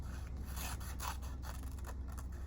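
Scissors snip through paper, cutting out a mountain shape for a handmade Christmas card, a series of quick close crisp cuts over a soft steady background hum.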